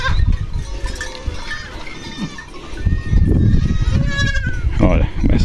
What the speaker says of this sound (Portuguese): Eu vou mostrar a vocês os bodes solteiros aqui.